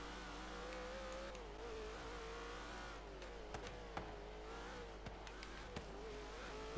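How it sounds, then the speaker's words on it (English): A heavily modified Corvette in Forza Horizon 3 revs steadily with a throaty, sustained engine drone, a few sharp clicks and bumps punctuating the even, moderately quiet rumble. "I'm not disappointed with the engine sound they're giving this car."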